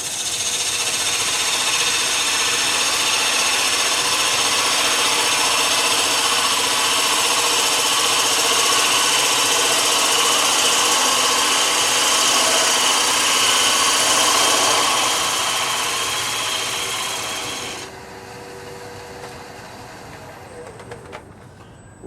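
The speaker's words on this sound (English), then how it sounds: "Roughing gouge for a baby smooth slice, but I got a few tears in it." A wood lathe spins steadily while a roughing gouge cuts a toothpick-sized spindle, giving a loud, continuous whir with a rough cutting hiss that cuts off sharply near the end, leaving a quieter motor hum.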